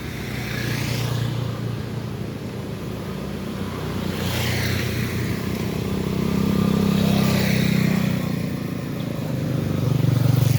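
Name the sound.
truck passing on the road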